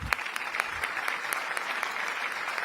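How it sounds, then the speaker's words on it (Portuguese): Theater audience applause at a live business talk event, a steady wash of many hands clapping at moderate volume, with a few sharper individual claps standing out. "Mais aplausos."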